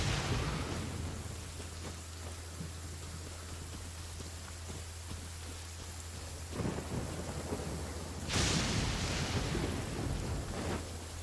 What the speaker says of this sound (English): It's raining too, I better get there quick to keep this weather here.